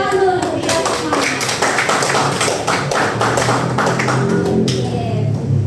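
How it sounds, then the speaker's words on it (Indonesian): A class of pupils clapping their hands together in a classroom, loud close rhythmic claps in quick succession with a teacher's voice and some chatter mixed in. "Tepuk tangan dulu untuk kita semuanya"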